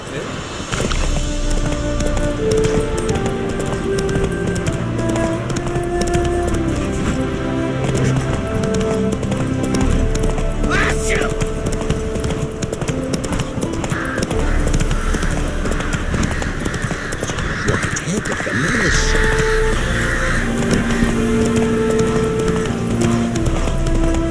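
A horse gallops in Witcher 3, rhythmic clip-clop hoofbeats running continuously under a game music score, with occasional other effects and some speech.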